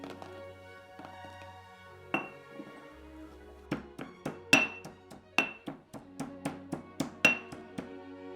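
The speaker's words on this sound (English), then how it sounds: "We begin with pressing the cloves of garlic in the mortar until smooth." A pestle knocks against a mortar while garlic cloves are pressed for pesto, giving a series of sharp, ringing clinks that come faster and louder as the pounding goes on.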